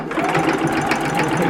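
A sewing machine runs steadily, stitching a quilted table runner, a close, continuous motorized whir with a rapid needle rhythm throughout and no pauses.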